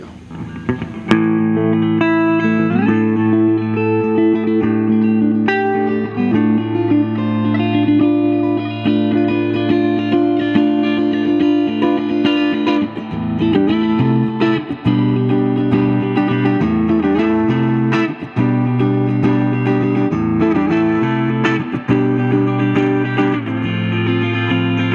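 A 1976 Fender Telecaster Custom played on its neck humbucker into a 1966 Fender Pro Reverb without an overdrive pedal: sustained chords and single notes ring out with reverb for about twenty-five seconds, full and steady, with no talking.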